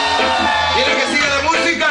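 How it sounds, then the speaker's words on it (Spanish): Crowd at a live reggae concert yelling, whooping and cheering together, loud and sustained, with many overlapping voices close to the microphone. "¿Dónde está ese grito?"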